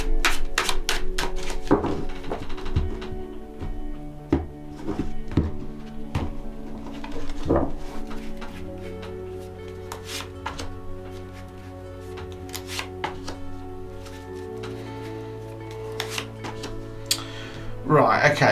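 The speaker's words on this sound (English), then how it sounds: "Let's give another knock and a shuffle." Tarot cards being knocked on and shuffled during a reading: a run of sharp, irregular close taps and knocks, then softer rustling and riffling of the deck, with a low hum in the background.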